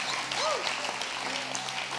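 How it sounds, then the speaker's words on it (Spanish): Church congregation applauding during a sermon, a steady wash of clapping with a raised voice or cheer rising briefly above it. "Le damos un fuerte aplauso a Jesús por esta palabra"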